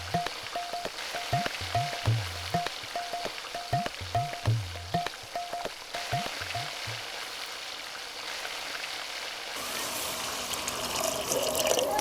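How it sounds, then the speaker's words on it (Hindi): Water poured into a hot pan for cooking fish, a soft splashing hiss that rises near the end, following a run of regular metallic ticks and clinks from the kitchen. "आप देखिए, इसमें पानी डालने जा रहे हैं।"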